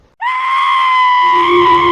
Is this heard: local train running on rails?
no